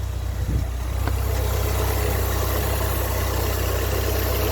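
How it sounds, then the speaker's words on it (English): A car engine idles steadily and close by, a constant low rumble with a slight rise in pitch as the idle speed is brought up. "The idle speed has got to come up."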